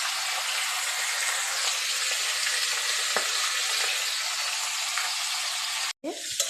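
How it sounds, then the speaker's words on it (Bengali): Cauliflower pieces frying in oil in a pan make a steady, close sizzle that runs unbroken, then a brief break and a clatter near the end. "আর এই ওভেনে কপিটাকে ভাজা করছি।"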